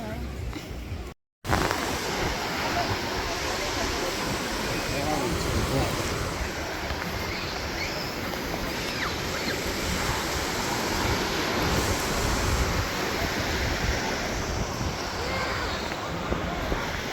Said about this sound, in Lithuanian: Va čia jūra